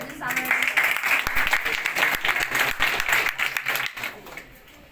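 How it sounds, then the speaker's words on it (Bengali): Indoor crowd at a company award ceremony clapping loudly and steadily for several seconds, the applause tapering off at the end, with voices mixed in. "জোরে তালি হবে।"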